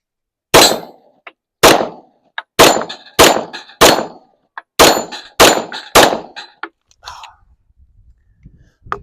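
A Gen 1 Smith & Wesson M&P9 pistol fires eight rapid shots at close range, each crack followed by a metallic ring from steel targets, with quiet movement noises afterward.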